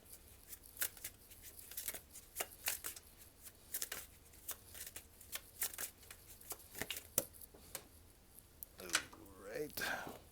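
Tarot cards shuffled for a card reading: repeated quick riffling and flicking bursts in uneven clusters, close and fairly soft, ending with a fuller riffle and brisker movement.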